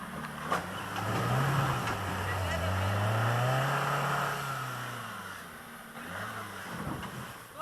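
An engine revs under load as the driver presses the accelerator, rising and falling in a drawn-out droning swell over several seconds while a voice talks over it nearby.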